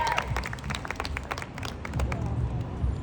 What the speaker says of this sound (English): Give a round of applause for my best friend